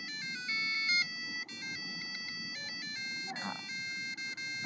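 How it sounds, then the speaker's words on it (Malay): An electronic alarm plays a bright, beeping melody of repeated synthetic tones, close and steady, with a faint voice or background noise briefly underneath. "itulah alarm kita, bunyi alarm kita"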